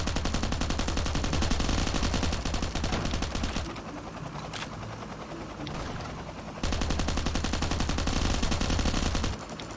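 Dense automatic gunfire in the survival game Last Island of Survival, a rapid sustained rattle of shots that eases briefly mid-clip, then resumes at full loudness.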